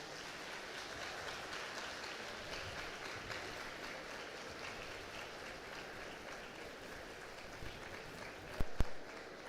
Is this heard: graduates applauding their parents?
yes